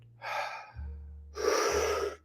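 Two deep breaths during a guided breathwork session, each a loud, airy exhale with a low hum underneath, the second one stronger and longer.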